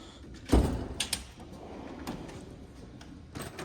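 A wrench drawer in an apprentice heavy-truck mechanic's tool box slides open with a single close rolling thump and rattle, followed by faint clinks of metal tools and quiet handling noises.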